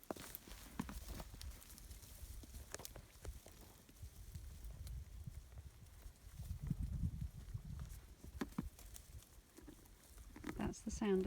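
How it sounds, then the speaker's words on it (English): A donkey chews whole olives outdoors in a wild nature reserve, making close, irregular low crunching and munching sounds with faint rustling around it. "That's the sound of donkey crunching olives."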